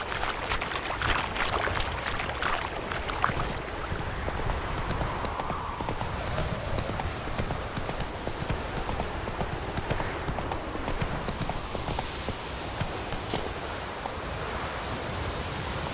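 Roach, the horse in The Witcher 3, gallops with a steady, continuous clip-clop of hooves that runs the whole time at close range, over a constant wash of outdoor ambience.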